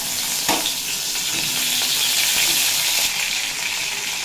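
Pointed gourd (potol) fries in oil with salt, a loud, close, continuous crackling sizzle with a sharp stir knock early on and light scraping underneath.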